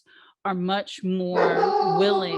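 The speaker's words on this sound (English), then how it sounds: "apologies for my barking dog" A dog barks indoors, its short sharp barks overlapping a speaker's voice during an online talk, loud and close to the microphone.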